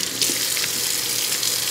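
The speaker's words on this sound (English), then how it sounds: "Let's start first by washing our hands." Running tap water pours steadily into a sink in a kitchen as hands are washed before cooking, a close, even hiss with slight splashing changes and no talk.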